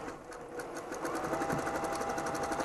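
A sewing machine stitches a short straight seam while free piecing a quilt, its steady rapid needle chatter running close and continuous throughout.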